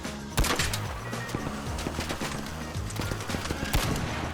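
Gunfire in the video game ARC Raiders: rapid bursts of shots crackle at a fast, uneven rhythm throughout, with a couple of heavier reports standing out.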